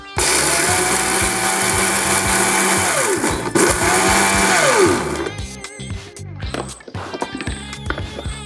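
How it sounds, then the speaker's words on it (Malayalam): A mixer jar blends pineapple with sugar in a loud continuous whir that drops briefly near three and a half seconds, then cuts off around five seconds into clattering and rattling of the jar being handled. "ഇത് രണ്ടും കൂടെ ചേർത്ത് നമുക്കൊന്ന് ജാറിലിട്ട് ഒന്ന് അടിച്ചെടുക്കാം ആദ്യം"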